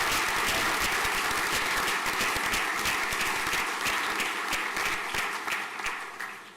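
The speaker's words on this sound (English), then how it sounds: "A large round of applause, please." A school prizegiving audience gives sustained, dense applause in a hall. Even clapping holds strong for several seconds, then thins and fades toward the end, with no speech over it.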